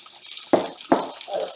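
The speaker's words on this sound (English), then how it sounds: "Now I need to drain this water off." Water from cooked onion and potatoes drained off in a few short pours and splashes, two sharp gushes followed by a softer trickle, close by and brief.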